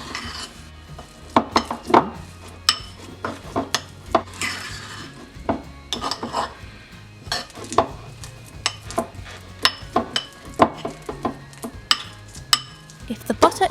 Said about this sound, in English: Mash and mix with spoon.